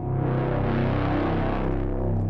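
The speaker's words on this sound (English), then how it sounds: "I have wobble turned up, and that's gonna add some modulation into the reverb itself" A dense, wavering reverb wash from an Eventide H9 plug-in with wobble modulation, slow pitch wobble, sustained and loud, swelling and shimmering with no voices.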